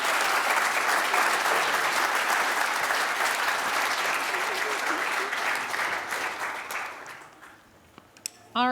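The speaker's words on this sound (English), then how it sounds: "a big round of applause" A crowd claps in sustained, dense applause that gradually thins and fades out near the end, with a few stray claps trailing off.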